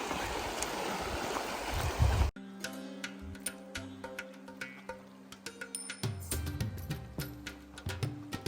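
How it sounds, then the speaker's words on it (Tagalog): River water rushing loudly during a river crossing in Mindoro, a dense roar that cuts off after about two seconds, giving way to quieter scattered clicks and tones. "Tatawid din kami ng ilog."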